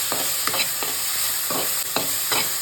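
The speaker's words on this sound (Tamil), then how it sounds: "பாருங்கள், வெங்காயமெல்லாம் நல்லா பொரிஞ்சு வருது" Shallot paste and onions fry in a pan for a banana-flower lentil dumpling gravy, with a steady close sizzle broken by rhythmic spoon-scraping stirs about every half second.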